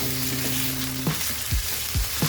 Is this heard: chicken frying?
yes